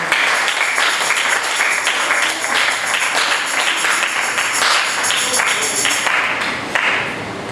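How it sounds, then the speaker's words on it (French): A church congregation claps during a French-language sermon, with broad, loud applause and some rhythmic clapping mixed in, continuing steadily and then thinning near the end. "Applaudissez-vous les Seigneurs."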